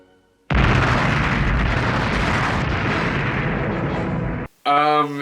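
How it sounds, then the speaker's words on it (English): A loud, sustained explosion effect from the film Hercules roars continuously for about four seconds, then cuts off and is followed by a brief burst of bright, harmonic music or a sung tone. "What the fuck was that explosion about?"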